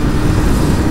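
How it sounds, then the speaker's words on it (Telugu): Revolt RV1 electric bike running, giving a loud, steady motor whir that holds constant throughout the short stretch. "మోటార్ సౌండ్ చేస్తుంది రయ్యి రయ్యి అని."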